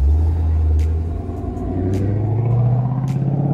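A tuned 2016 BMW 340i M-Sport with rear-wheel drive and a ZF transmission pulls hard, its engine a loud, steady close drone with a deep rumble that climbs in pitch partway through.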